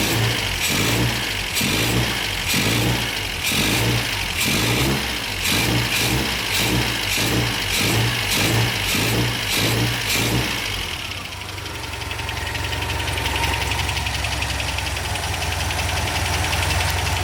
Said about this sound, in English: Okay, now we'll let it run for a second.